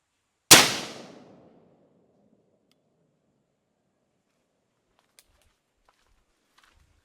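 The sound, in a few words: 223 Remington rifle gunshot with blast jacket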